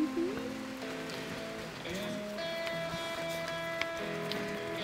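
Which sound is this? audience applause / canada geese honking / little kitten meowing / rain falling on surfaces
rain falling on surfaces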